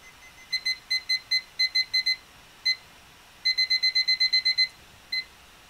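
A timer alarm beeping in rapid electronic bursts, several clusters of sharp beeps separated by short gaps, close and clear in an otherwise quiet room.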